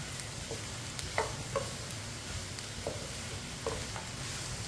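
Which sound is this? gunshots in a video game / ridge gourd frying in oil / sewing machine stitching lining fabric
ridge gourd frying in oil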